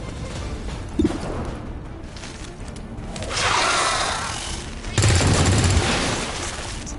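Bursts of gunfire in the XCOM 2 video game: a sharp shot, then sustained rapid fusillades with booming impacts, loud and dense over game ambience.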